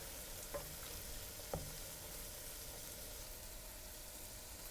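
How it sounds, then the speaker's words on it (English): Whole black pepper stirred into seafood stock for lobster bisque, a faint continuous simmering hiss with two light spoon knocks against the pot early on. "about half a tablespoon of whole black pepper. Give it a stir."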